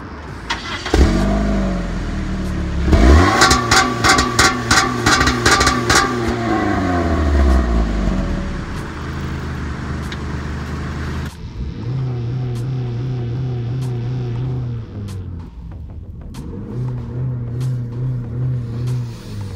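A Chrysler PT Cruiser with a loud exhaust and no mufflers starts and revs hard, a rough rising roar with a rapid staccato burble, then drops to a lumpy, droning idle with a few blips, loud and close.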